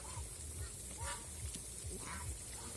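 Geese honking in a short run of nasal calls, with a few hoarse honks standing out over a steady background murmur, fairly faint and not far off.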